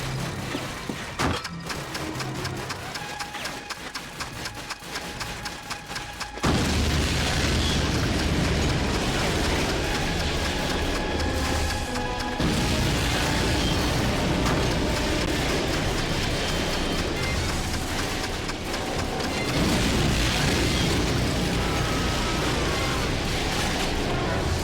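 Bombs going off at fuel depots in Call of Duty Finest Hour, a heavy rumbling blast that swells into a sustained roaring, crackling burn, loud and close, with a second surge partway through.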